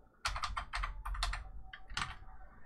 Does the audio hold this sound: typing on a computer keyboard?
yes